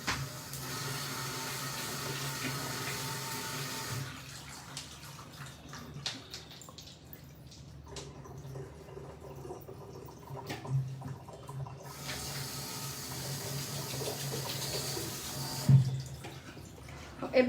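Tap water runs steadily while chhena cheese curds are washed for homemade rasabali, a soft continuous splashing with small drips and shifts in the flow, fairly faint throughout.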